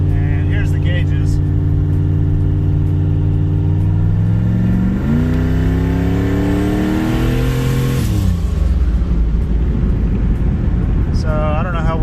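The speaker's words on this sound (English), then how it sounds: "I just rolled into the throttle there, just added more and more TPS until the turbo started to respond." Volvo 240 with a turbo engine pulling in third gear from about 30 mph as the throttle is rolled on, a loud steady in-cabin drone rising in pitch as the turbo spools, then easing off.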